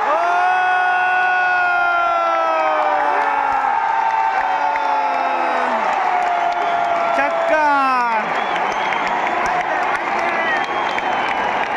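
A packed stadium crowd at an India vs Sri Lanka ODI cricket match cheers and claps loudly and continuously, with whoops and rising chant-like shouts filling the air throughout.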